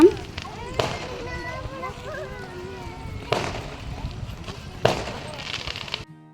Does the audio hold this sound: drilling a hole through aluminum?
no